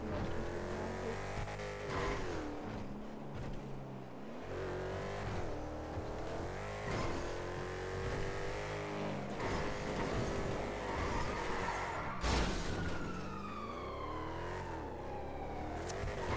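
Car engine in GTA roleplay driving steadily, revving up and down with rising and falling engine pitch, continuous and loud with no talk.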